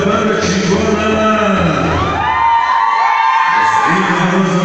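A crowd at a sonidero dance event in Amozoc shouts and cheers loudly and steadily, with whoops rising over a dense, continuous roar.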